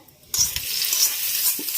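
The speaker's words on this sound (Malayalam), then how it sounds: "ഇനി നമുക്കിതിലേക്ക് വറുത്ത് കൊട്ടാം." Hot tempering is poured into a small onion tamarind curry with no coconut, bursting into a loud, steady sizzle after a brief quiet start, with a faint stir or clink partway through.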